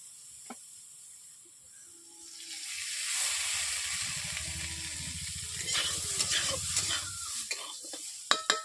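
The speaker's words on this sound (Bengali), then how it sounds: "আলুগুলো ভেজে নেব।" Potatoes frying in hot oil in a pan while cooking a vegetarian soybean and potato curry: a steady low sizzle builds and holds, with scattered crackles and light clinks toward the end.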